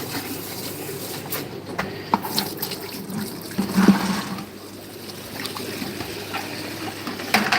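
Water runs steadily from a tap while something is washed by hand, with a continuous close splashing trickle and occasional small knocks and clatters.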